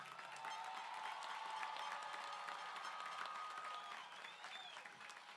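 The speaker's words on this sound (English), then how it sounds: "can we give a great round of applause for all of our graduates here today?" Applause for the graduates at a university commencement ceremony, sustained clapping from a large crowd filling the space, with faint cheers and whistles rising above it.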